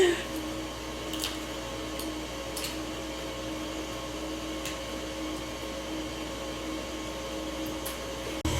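An electric mixer beats coconut layer cake batter with a steady, continuous whirring hum that holds at an even level throughout.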